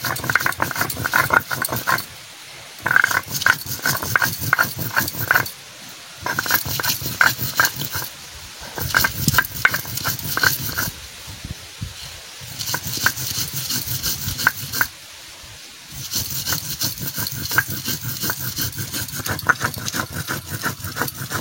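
Chillies are ground on a stone slab with a hand stone, a rhythmic rough scraping and rubbing in quick back-and-forth strokes, broken by brief pauses, close and fairly loud.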